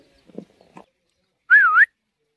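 A person gives one short, clear, wavering whistle to call pigeons, preceded by a few faint low sounds in an otherwise quiet setting.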